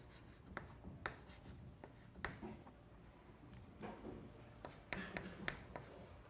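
Pen or marker writing on a board during a maths lesson on gradients and level surfaces, with a series of short scratchy strokes and taps at an irregular pace, faint and quiet with no talking.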